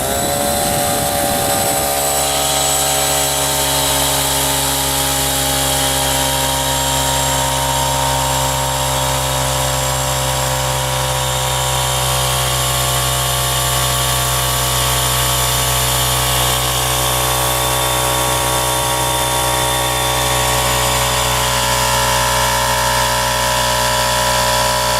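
An electric air compressor starts up and runs while building pressure toward 8 bar, a loud, steady motor drone with a strong hum that settles after a brief rough start and continues unbroken, with no speech.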